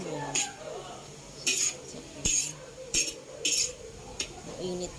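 Tom Yum fried rice is stirred in a pan with a metal utensil, giving scattered scraping strokes and sharp clinks against the pan at irregular intervals, close and moderately loud.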